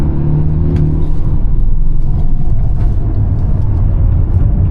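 A Polestar 1 accelerating hard on a race track, engine and drivetrain roar swelling loud and close from the cabin, a dense low rumble with rising whine as speed builds, no voices.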